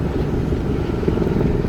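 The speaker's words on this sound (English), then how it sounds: "That noise is a helicopter low flying overhead." A steady low rumbling drone of a helicopter passing low overhead, loud and continuous with no other sounds.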